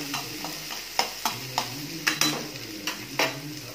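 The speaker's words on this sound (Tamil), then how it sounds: "பூண்டை சேர்த்துட்டு நல்லா ஒரு தடவை கிண்டி விட்டுக்கோங்க." Garlic sizzles steadily in a hot pan for chow chow chutney while a spoon stirs it, giving a string of sharp scrapes and taps over the constant frying hiss; close, no talking.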